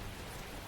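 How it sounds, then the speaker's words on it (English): Steady rain from the video game Tales of Zestiria, a dense even hiss that fills the short moment loud and unbroken, with no voices over it. "I'm still surprised it's rain"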